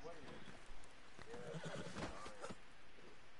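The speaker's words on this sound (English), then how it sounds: "Dusty the horse" A horse in Red Dead Online whinnies with a wavering, rising-and-falling neigh over faint hoof clops, heard at moderate distance alongside people talking.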